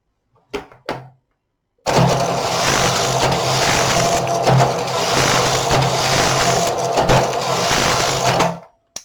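A Silver Reed SK 280 knitting machine knits rows of waste yarn, its carriage making a loud, continuous mechanical whir and clatter for about seven seconds, preceded by two brief clicks and ending abruptly.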